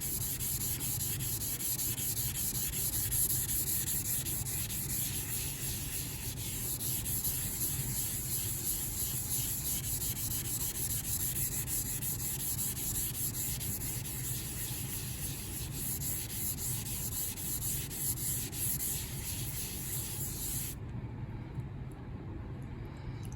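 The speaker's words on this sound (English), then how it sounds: "Let's just see what happens with some rub here with this thing." A Naniwa green brick rubs against a sharpening stone in a continuous, close, gritty scrubbing hiss that runs for about twenty seconds before cutting off.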